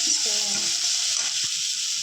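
Ginger-garlic paste sizzles in hot oil in a pan, giving a bright, continuous frying hiss close up with a faint voice murmuring underneath.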